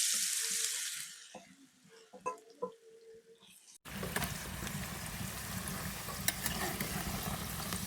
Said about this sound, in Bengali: এবার ওই তেলে আলুগুনা দিয়ে দিলাম দিয়ে ভেজে নেবো।